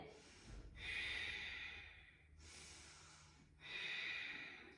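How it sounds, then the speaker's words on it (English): Three long, deep ujjayi breaths during a yoga practice, each a slow, close, softly hissing inhale or exhale with a short quiet pause between, heard alone. "Deep ujjayi breaths"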